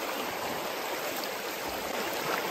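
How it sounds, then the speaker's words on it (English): Steady rushing of a freshwater creek in the Yukon wilderness, close and continuous, a broad even wash of flowing water with no voices. "What absolutely beautiful creek."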